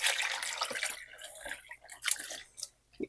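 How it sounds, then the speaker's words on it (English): Water poured into a dye pan of yarn skeins, splashing and trickling in uneven bursts that fade to drips near the end, close up with no talking. "I'm going to be adding another 9 cups of water"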